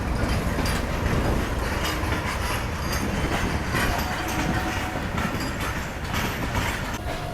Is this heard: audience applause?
no